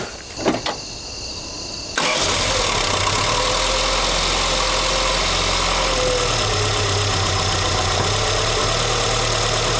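A 1984 Chrysler LeBaron with a 2.6 engine and Mikuni carburetor makes a cold start: a few clicks and a brief crank, then the engine catches and settles into a loud, rough, uneven idle that runs steadily to the end.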